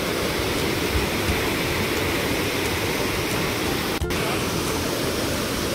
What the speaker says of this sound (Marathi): हा वॉटरफॉल जसं वरतूनच येतोय.